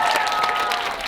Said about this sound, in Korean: 고생했다고 박수 한번 보내주세요.